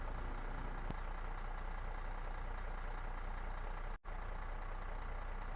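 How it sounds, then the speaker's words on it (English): A truck rolls along a highway at night, a steady broadband engine and road drone holding constant throughout, with one brief dropout near the end; no distinct downshift is evident. "She drives, downshifts into curves, keeps the speed governed,"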